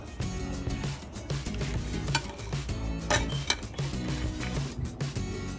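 Fried fish in sweet and sour tomato sauce being served onto a plate in a home kitchen, with scraping, clinking utensils and pan knocks in an irregular, close-up clatter.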